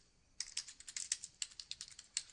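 Rapid, light clicking of fingers typing on a computer keyboard, an irregular run of crisp keystrokes close to the microphone after a brief quiet start, with no voices.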